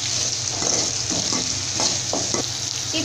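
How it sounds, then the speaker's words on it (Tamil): Radish slices sauté in a hot pan for mullangi sambar, giving a loud steady sizzle broken by several spoon scrapes and stirs. "இப்போ வந்து இந்த முள்ளங்கியை வந்து லைட்டாக வந்து வதக்கணும். நல்லா வந்து கரண்டியில் வந்து வதக்கி விட்டுக்கோங்க."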